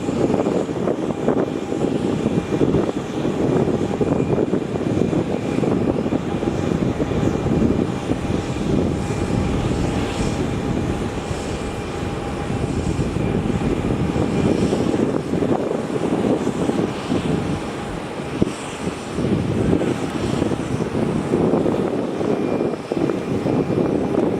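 A Qantas Boeing 737 airliner on final approach at Melbourne Airport gives a steady, loud engine roar that continues throughout, with wind buffeting the microphone close by.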